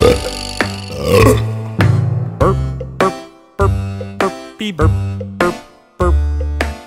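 A series of loud, drawn-out burps come one after another, about six or seven separate belches in quick succession, each with a deep, rumbling tone.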